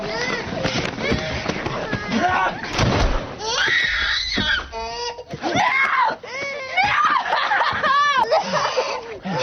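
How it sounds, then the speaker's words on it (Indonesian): Screaming and a small child crying in a tense film scene, loud anguished wails and shrieks overlapping with shouting voices and commotion throughout. "teriakan Aidan serta suara tangisan anak kecil dianggap sangat meresahkan"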